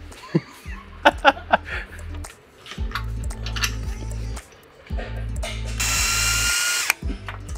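Short bursts of a power tool or ratchet tighten bolts on a roof rack for a Can-Am Maverick X3, whirring in repeated pulses between sharp metallic clicks and clanks nearby.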